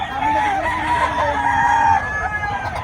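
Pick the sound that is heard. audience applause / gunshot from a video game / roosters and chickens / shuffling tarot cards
roosters and chickens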